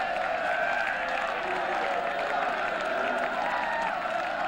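Large crowd at Lord's applauding and cheering after Somerset's seven-wicket win over Surrey in the 1981 Benson & Hedges Cup cricket final, a dense, steady roar of clapping and shouts filling the whole stretch.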